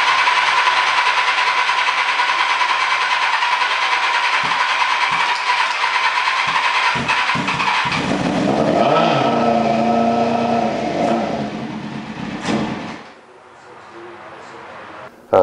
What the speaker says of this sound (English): The bike does run, and I'm going to go ahead and throw a video in right